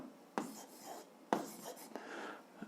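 Pen or chalk writing out an algebra answer in a quiet room, with several soft scratching strokes and light taps close by, and no speech.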